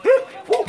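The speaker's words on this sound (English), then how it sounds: "Looks like they're gonna put the dogs away first." A dog gives two short barks about half a second apart, moderately close at a house in Peru, with no talk over them.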